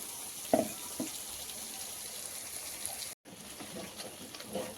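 Water running into a pan to rinse off leftover masala for mirchi ka salan, a steady hissing flow with a couple of soft knocks and a short break partway through.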